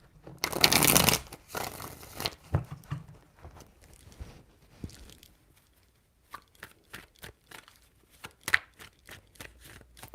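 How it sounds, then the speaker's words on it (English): Tarot cards are shuffled by hand close up, a loud riffling burst at the start followed by a series of quicker, crisp card snaps and flutters, with no talk. "Three shuffles."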